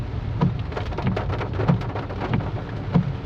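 Heavy monsoon rain drums steadily on a vehicle during a road drive through Boisar, with sharp splattering drops and a few louder thumps spaced about a second apart, and no voices.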